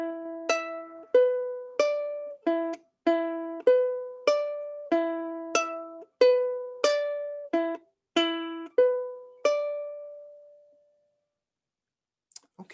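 Ukulele picks out a song intro on its own, a run of bright plucked notes in a steady bouncing rhythm, close and clear, ending on one ringing note that fades into near silence.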